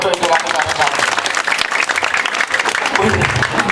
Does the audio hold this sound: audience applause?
yes